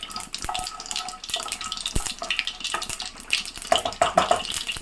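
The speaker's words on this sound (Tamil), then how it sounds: "கடுகு பொரியுது" Mustard seeds crackle and spit in hot oil in a home kitchen pan, with stray water from boiling rice popping alongside, a dense run of close sharp pops and sizzling bursts throughout.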